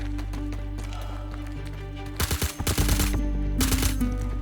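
Gunfire in the sci-fi shooter Star Citizen during a firefight over a cargo ship, with two loud bursts of rapid shots separated by a brief lull over a low steady background hum.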